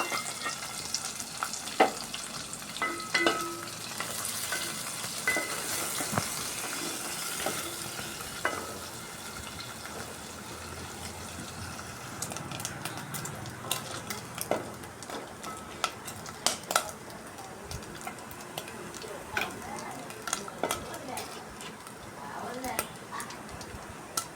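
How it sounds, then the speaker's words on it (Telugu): Prawns frying in oil in a pan for a ridge gourd prawn curry, a steady close sizzle broken by utensil clinks and stirring clatter. "రొయ్యలు వేసేసి వేసుకున్నానండి ఫస్ట్ ఆయిల్ వేసి వేసుకుని తీసేస్తానండి ఫస్ట్ కొంచెం ఆయిల్లో వేగనివ్వాలండి"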